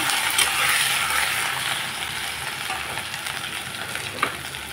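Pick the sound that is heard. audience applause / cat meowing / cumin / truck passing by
cumin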